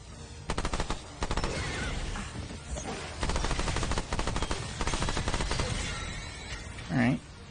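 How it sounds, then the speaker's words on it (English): Enemies firing lasers from the sky in the video game Remnant 2: dense, rapid bursts of gunfire-like blasts that repeat throughout, with a short tonal chirp near the end. "They're shooting lasers from the sky"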